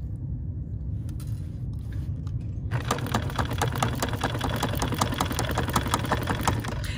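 A BERNINA sewing machine stitches over an area of fabric with a steady, rapid mechanical patter, starting softer and becoming louder and clearer after a few seconds, continuing close and unbroken with no talk.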